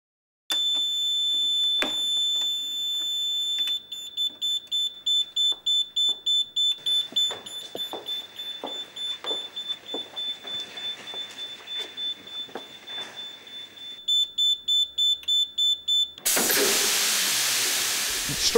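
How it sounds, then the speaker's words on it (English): A ProInert inert gas fire suppression system discharges at close range with a loud, pulsing alarm tone, then a rising rush of gas ending in a loud, sustained roar of hiss. "The system takes just over a minute to discharge, and because it's so close to us, it will create a lot of noise."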